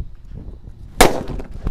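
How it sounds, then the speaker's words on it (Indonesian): A blue Colorful Thunder firecracker goes off in a single sharp, loud bang after a stretch of quiet background rumble, with a brief trailing crackle. "Ini ada mercon colorful thunder, langsung kita nyalakan guys."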